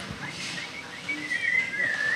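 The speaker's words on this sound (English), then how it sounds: "I can't whistle very well." A person whistles, a short, thin, wavering tune that starts after a breathy lead-in and holds briefly, fairly close and moderately loud.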